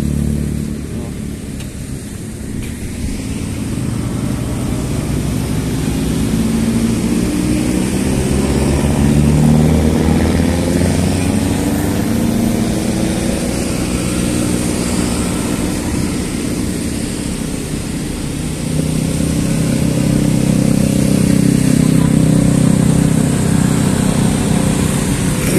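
Motorcycles race on a motocross circuit, their engines droning and buzzing at a distance in a rising and falling wash, with a louder surge near the end, no clear voices over it.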